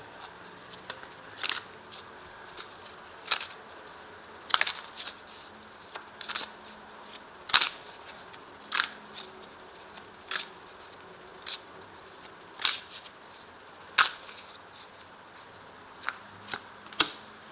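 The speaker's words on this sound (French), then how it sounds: "je rajoute une carte" Tarot cards being drawn and handled, with repeated crisp snaps and papery flicks at irregular intervals over a soft steady background, close by and without any talking.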